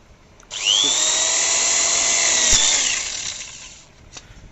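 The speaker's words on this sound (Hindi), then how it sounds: "तो देखो ड्रिल से मैं एक होल कर लूँ पहले।" An electric drill bores a hole in the body of an auto rickshaw, one loud steady whine starting sharply and running about two and a half seconds before winding down, with faint clicks after.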